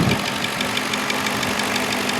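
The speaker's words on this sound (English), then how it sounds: "You can hear the timing chains clicking." A V8 engine in a truck idles steadily at close range, with a fast, light ticking clatter of timing chains riding over the continuous mechanical hum.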